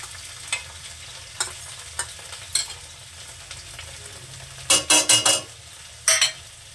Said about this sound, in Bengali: একটু জিরে বাটা এটাকেও আবার একটু নাড়াচাড়া দিয়ে নেব কাঁচা লঙ্কা বাটা